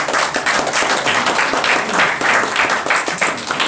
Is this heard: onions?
no